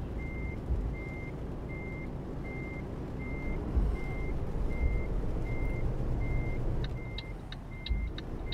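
Truck reversing beeps in Euro Truck Simulator 2, a steady run of evenly spaced electronic tones over a constant engine rumble, turning quicker and more clipped near the end.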